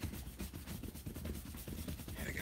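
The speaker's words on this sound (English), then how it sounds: "And let's erase some pencils out of here." Steady scratchy rubbing close up, an eraser removing pencil with continuous dry friction on paper and small rhythmic strokes, no voices.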